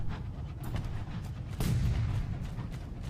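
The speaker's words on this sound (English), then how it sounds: "I hear a gun." Gunfire in the video game Sunless Skies: a couple of heavy, booming shots stand out above a low rumble. The strongest burst lands about halfway through, loud and close, with no talking.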